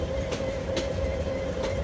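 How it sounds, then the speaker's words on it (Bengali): Train running in the Bangladeshi Train Game video game, a steady loud mechanical rumble with a sustained hum and faint rhythmic clicks of the rails, carrying on evenly and heard alone. "ট্রেনের আওয়াজ পাইতেছি"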